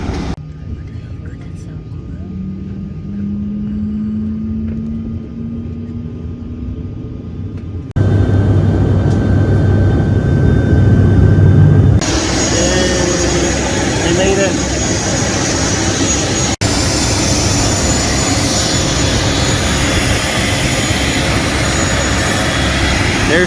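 A steady jet engine roar drones on, loud and unbroken, with a broad rushing hiss layered over a low rumble, from a Cebu Pacific plane bound for Coron.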